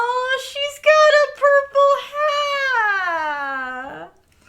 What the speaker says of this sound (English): Ah, little cat in a hat, no less.